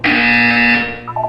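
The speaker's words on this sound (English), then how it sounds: "You will hear a buzzer." A loud, steady electronic buzzer from the Portal 2 video game holds a single sustained tone for about a second before cutting off, followed by a couple of brief softer beeps.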